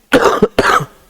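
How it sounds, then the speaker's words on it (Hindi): A person with a cold coughs twice, harsh and close, in quick succession. "सर्दी जुकाम के कारण खांसी आता है।"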